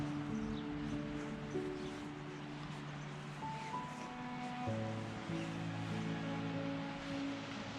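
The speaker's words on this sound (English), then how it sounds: "Nice wee noise off the sea right enough." Gentle sea waves wash softly onto a calm, windless beach, a faint steady surf hiss heard from a distance with low tonal hum layered beneath, and no voices.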